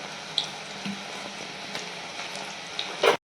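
Soaked chana dal sizzling and crackling in a pan, a steady close hiss with scattered small pops and a louder clatter at the very end before sudden silence.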